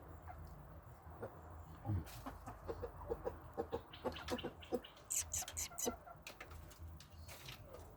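A rooster and hens cluck in short irregular bursts, fairly near but quiet, with scattered scratching and soft farmyard background.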